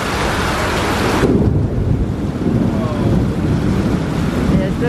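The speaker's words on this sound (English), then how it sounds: "There's the thunder." Steady heavy rain hisses throughout while a deep, rolling rumble of thunder swells and lingers in the low end.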